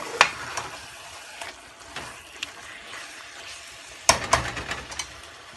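Chicken curry cooking in a pan as yogurt goes in: scattered spoon scrapes and clanks against the pan over a low, steady sizzle, with a sharper burst of stirring near the end.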